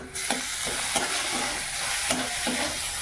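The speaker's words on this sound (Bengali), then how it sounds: "এবার একটু এটা নাড়াচাড়া করে নেব ভালো করে" Spiced potato mash with turmeric and grated ginger being stirred in a hot pan, with a continuous close sizzle and a few rhythmic scraping strokes of the spoon.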